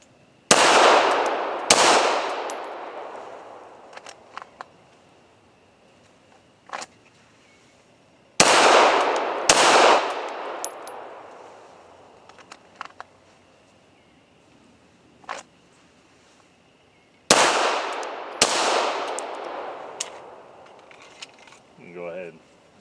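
Pistol shots fired in the Dot Torture red dot drill on a range, heard as three bursts of paired sharp reports, each pair followed by a ringing decay, with quiet gaps and a few faint clicks between strings.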